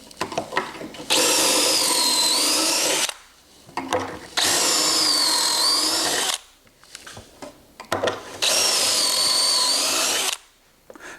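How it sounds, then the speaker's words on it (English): Three long bursts of a power drill boring pocket holes into wood, each lasting a couple of seconds with short quiet gaps between, loud and close. "let me go ahead and start drilling those pocket holes"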